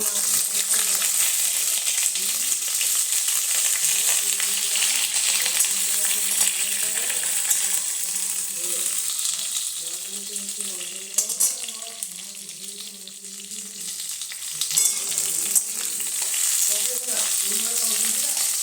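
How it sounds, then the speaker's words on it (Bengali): Fish frying in a pan in a home kitchen, a steady loud sizzle throughout with occasional clinks and stirring, while a voice speaks faintly in the background. "মাছটা ভেজে নেবো"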